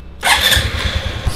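A Honda RS 125 FI motorcycle engine cranks and fires up close and loud, quickly settling into a pulsing idle with no talk.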